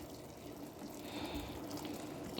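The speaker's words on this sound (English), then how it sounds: "Adding some more hot water." Hot water poured steadily into a pot of Caribbean-style chicken soup, a continuous close splashing and trickling stream with no talk.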